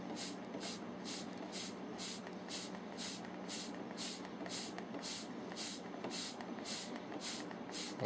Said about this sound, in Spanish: Yo tengo una bomba de vacuum, voy a pegar a actuarla.